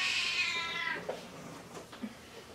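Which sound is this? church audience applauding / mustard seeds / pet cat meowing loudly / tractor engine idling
pet cat meowing loudly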